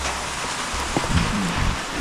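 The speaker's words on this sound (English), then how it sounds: "this rain, it went from a chance of spotty showers to we're gonna have a half a day of rain here" Rain falls steadily at a Michigan deer camp during gun season, a dense even hiss of drops on surfaces, with a brief faint knock and low murmur partway through.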